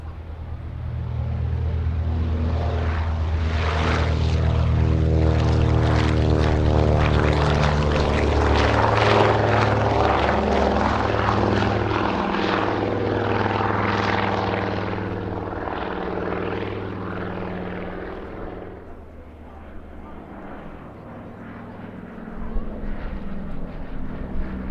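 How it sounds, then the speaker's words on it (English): A Consolidated PBY-5A Catalina's twin 1200-horsepower Pratt & Whitney Twin Wasp radial engines roar through a take-off roll at an RAF Cosford air show, a loud sustained propeller drone that slowly fades as the aircraft moves away. "1200 horsepower Pratt & Whitney twin Wasp, radial engines and started to take off roll, the consolidated PBY-5A Catalina."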